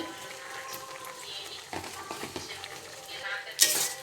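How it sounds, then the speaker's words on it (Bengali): A spoon stirs washed cashews and raisins through a simmering chutney in a pot, with soft scraping and clinks against the metal through the clip and a louder clatter near the end. "এটা একটু সুন্দর করে নাড়িয়ে"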